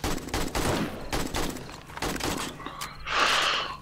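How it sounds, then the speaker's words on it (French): Rapid gunfire from the 7 Days to Die video game, close, loud bursts of repeated shots in quick succession, ending with a brighter burst of noise. "Ah, j'ai tiré 100 balles déjà."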